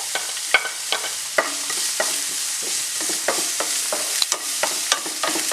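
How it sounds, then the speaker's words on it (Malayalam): Finely chopped onion and green chilli sautéing in hot oil while being stirred, a bright steady sizzle punctuated by regular spatula taps and scrapes against the pan, close and clear with no talk. "ഒന്ന് ഇളക്കി വഴറ്റിയെടുത്താൽ മതി"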